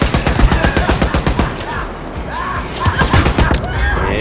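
A shotgun in the video game Wolfenstein: Youngblood fires a rapid, loud string of blasts for the first two seconds, then scattered shots follow amid game noise.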